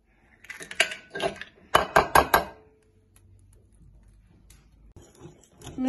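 Waffle batter with egg is mixed in a bowl: a quick series of clattering, clinking strokes against the dish, loud and close at first, then a quieter stretch of faint scraping before the sound picks up again.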